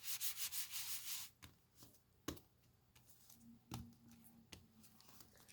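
Flat gold being rubbed over the raised side of an embossed card: a burst of soft, close dry rubbing at first, then quieter scattered scuffs and a few sharp little taps.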